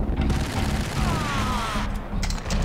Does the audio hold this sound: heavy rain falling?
no